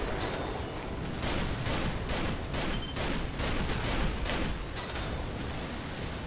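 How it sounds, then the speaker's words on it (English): Rapid repeated gunfire from the mech combat game Armored Core V, a dense steady rattle of shots at an even rhythm, fairly distant and continuous throughout. "Okay, something's shooting me."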